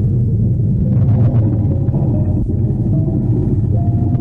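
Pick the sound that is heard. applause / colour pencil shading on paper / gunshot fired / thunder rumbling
thunder rumbling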